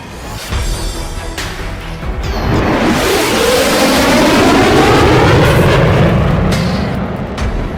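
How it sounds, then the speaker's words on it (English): An F-14 Tomcat jet in a Roblox flight game sweeps past with a loud rising roar that swells to a sustained, heavy rumble before easing off, with no talk over it. "F-14 Tomcat."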